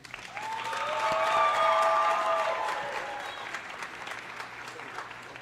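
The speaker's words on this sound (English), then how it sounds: "Can we get a round of applause for Akila Aurelian?" Applause from a crowd at a Dr. Martin Luther King Jr. celebration, swelling over the first couple of seconds and then tapering gradually, with some cheering mixed in.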